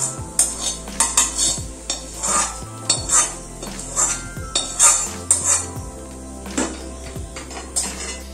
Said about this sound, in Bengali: এখন আমি ডালের কড়াইটা নিয়ে নিয়েছি আর যে তরকাটা আমি ভেজে নিয়েছি সেটা দিয়ে দিচ্ছি।